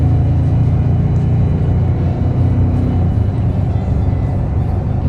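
Car driving away from a driveway after performance tuning, with a steady loud engine rumble and low drone throughout and small shifts in pitch as it pulls off.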